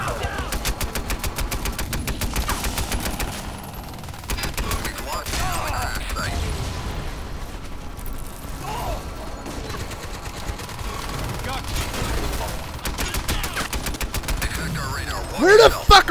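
Automatic weapons fire in a Crysis 3 multiplayer beta match: dense, loud bursts of rapid gunshots run almost continuously, with brief pauses and a heavier blast near the end.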